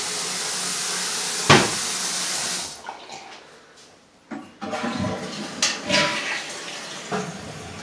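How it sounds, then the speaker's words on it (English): A toilet flushes in a move-in apartment, a loud close rush of water that drains away and fades, followed by gurgling refill and a few knocks and clunks. "So the flush is good."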